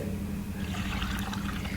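Water being poured over soaked urad dal while it is washed, a steady close gush and splash of running liquid with no talk.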